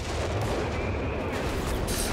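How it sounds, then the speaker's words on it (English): Dense artillery barrage in the Company of Heroes 3 video game, a steady loud wash of overlapping booms and blasts rumbling without a break throughout. "Good barrage here."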